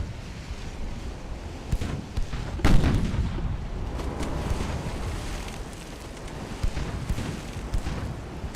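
Naval cannon fire and a flash-fire explosion aboard a light cruiser in Ultimate Admiral: Dreadnoughts, heard as a deep booming blast with scattered sharper reports over a steady rumble of wind and sea.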